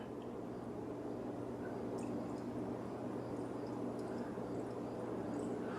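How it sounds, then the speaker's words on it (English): Water pours steadily into a small low-tech nano aquarium planted with Java moss, a continuous moderate trickle and splash that holds evenly throughout with no voices. "Now let's top up the water to a usable level."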